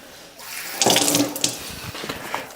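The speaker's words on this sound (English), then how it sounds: "So I want to just wet my hand" Tap water runs briefly onto a hand during sourdough making, a close splashing stream lasting about two seconds with small drips trailing off, without talk.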